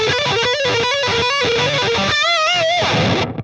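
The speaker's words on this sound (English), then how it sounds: "A Marshall 100 watt head, you only need that distortion." An electric guitar plays loud through a Marshall 100 watt head with heavy distortion: choppy chords and a sustained bent lead note, then an abrupt cutoff at the end.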